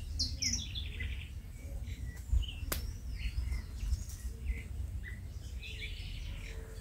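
Small birds chirp and tweet in short scattered calls inside a home aviary, light and fairly close over a low background hum.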